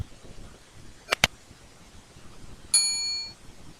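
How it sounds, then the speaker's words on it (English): A notification bell sound effect: two quick sharp dings close together, then after a pause a single brighter ringing chime that decays over about half a second, over faint background noise. "don't forget to subscribe and hit that notification bell"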